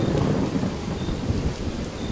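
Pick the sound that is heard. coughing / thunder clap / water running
thunder clap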